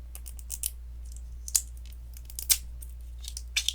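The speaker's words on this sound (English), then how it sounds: "We gotta unwrap it." Unwrapping a tiny Miniverse Cafe miniature coconut: sparse, crisp plastic crinkles and small snips in short bursts, close and quiet over a low steady hum.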